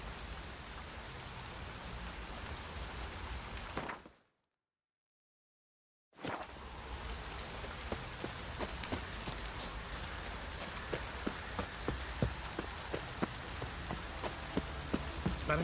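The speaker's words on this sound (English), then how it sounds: "Looks like rain." Steady rain pours in the video game The Witcher 3, a dense hiss with scattered drops ticking on surfaces, broken by a couple of seconds of total silence before the downpour resumes and grows slightly louder.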